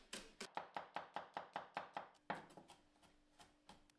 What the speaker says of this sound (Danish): Hak det hele i smadder.